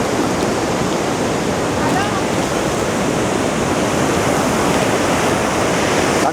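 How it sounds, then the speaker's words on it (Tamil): A loud, steady roar of rushing water crashing down at Niagara Falls' Cave of the Winds, continuous and close, filling the whole scene with no other sounds. "தண்ணியுடைய சத்தத்தை மட்டும் கேளுங்க."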